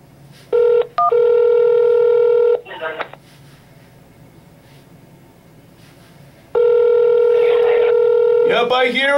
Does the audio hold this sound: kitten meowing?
no